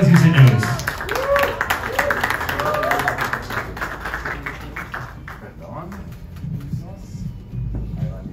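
Audience applause at a press conference for a band, starting loud and dense, then thinning and fading under a voice speaking into a microphone.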